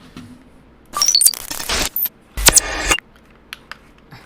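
WASD keys on a computer keyboard pressed in quick bursts, crisp close clicks and clattering taps in two clusters followed by a couple of isolated light taps.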